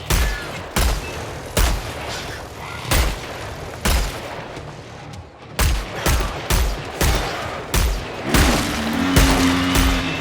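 Repeated bursts of gunfire from a drum-fed gun in Killing Floor 3, loud and close, firing in short volleys with brief gaps, ending in a heavier sustained stretch with a low mechanical hum underneath.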